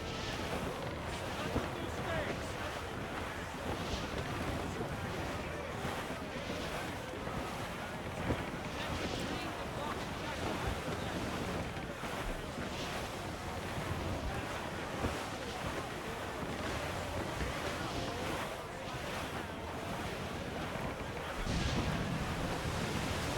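A sailing ship riding a squall in Assassin's Creed 4, a dense continuous roar of wind and crashing waves over creaking hull, with shouted voices mixed in throughout.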